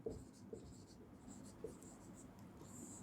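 Writing on a board during a Sanskrit lesson, a soft continuous scratching of strokes with a few light taps, faint and close, in a quiet room.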